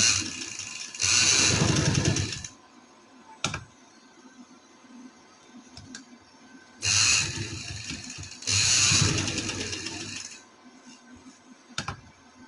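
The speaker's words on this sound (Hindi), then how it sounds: "अब इस तरह से घुमाएंगे, इधर सिलाई लगाएंगे।" Sewing machine stitching lace onto fabric, running in three loud mechanical bursts of rapid needle clatter separated by quiet pauses with a few isolated clicks.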